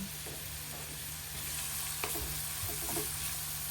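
Garlic and onion sizzle steadily in hot oil for canton-bihon guisado, a constant crackling hiss with a few soft stirring scrapes, close and alone.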